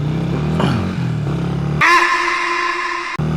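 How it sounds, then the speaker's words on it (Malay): Motor scooter speeding past on a road, a loud engine whine rising and falling as it passes close, then a brief high-pitched buzzing tone that stops suddenly. "Laju akak ni, akak skuter."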